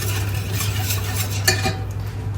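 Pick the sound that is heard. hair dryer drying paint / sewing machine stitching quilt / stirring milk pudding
stirring milk pudding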